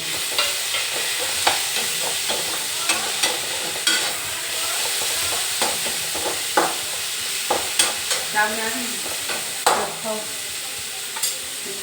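Tomato and brinjal fry for chokha in a pan, a constant soft sizzle broken by repeated scraping stir strokes at an irregular pace, close up with no voices.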